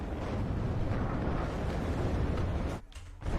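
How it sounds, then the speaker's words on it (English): Bombs from a Tornado IDS bombing run explode in the video game WARNO, cluster munitions rumbling in a steady, heavy barrage that cuts off abruptly near the end before another burst resumes. "Tornado IDS coming in for a bombing run"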